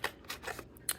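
Scissors snip through craft material for Christmas gnomes in a quick series of close, crisp cuts, with no talking.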